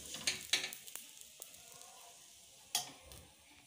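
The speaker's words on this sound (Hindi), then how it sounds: "ये परांठा बेल दिया मैंने इस टाइप से, तवे पे रख लो और थोड़ा सा तेल लगा लो ताकि ये चिपके नहीं।" A radish paratha on a hot tawa with a little oil gives a soft, steady sizzle, with a few sharp clicks and light scraping taps near the start and one louder clatter toward the end.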